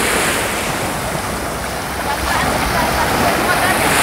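Waves wash continuously onto an Azov Sea beach at sunset, a steady loud surf with heavy wind buffeting the microphone.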